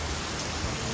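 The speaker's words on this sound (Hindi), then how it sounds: "ये देखो कितनी तेज बारिश बिजली के साथ।" Heavy rain pours down during a storm with lightning, a dense, steady hiss of water filling the whole moment with no voices.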